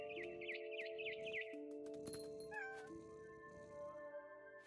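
A cat in the video game What Remains of Edith Finch meows in a rapid run of high calls, then makes a drawn-out wavering cry over steady tonal game music.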